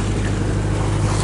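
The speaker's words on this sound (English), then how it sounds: "we've turned our motor back on and we've put the sails in" A sailboat with its sails taken in motors offshore into the wind under engine power, giving a steady, close, low drone blended with continuous wind and water wash, with no talking.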